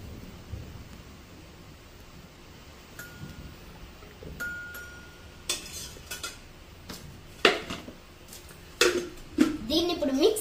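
Sweet corn kernels being mixed in a bowl with chili powder and oil, giving scattered scraping and clinking of a spoon against the dish that grows louder and busier toward the end.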